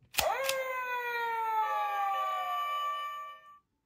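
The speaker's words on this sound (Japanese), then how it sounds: "なんか消防車の音にも聞こえますけどね" A toy GP Boonboon Car 02 rescue vehicle sounds a fire-engine-like electronic siren: two sharp clicks, then a sustained wavering tone for about three seconds before it cuts off, clear and alone.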